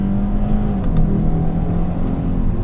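A 2025 Kia K5 GT pulls hard under acceleration, its engine droning steadily with a pitch change as the automatic shifts gears, loud and close inside the cabin.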